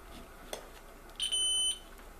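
A continuity tester beeps while probing an N type coax connector, a single steady electronic tone lasting about half a second, clear over quiet room background.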